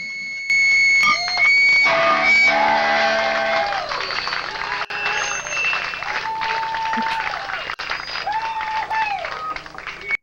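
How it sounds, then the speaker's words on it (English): A concert crowd at a show applauds and cheers moderately while amplified band tones and feedback ring over it, a dense, sustained roar of clapping that stays fairly even rather than wild. "the crowd getting a little louder, but certainly not a boisterous crowd"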